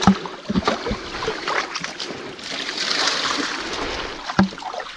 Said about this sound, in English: So I'll tip out a good bit of water so it's not too difficult to carry.